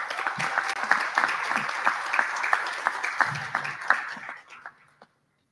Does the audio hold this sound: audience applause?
yes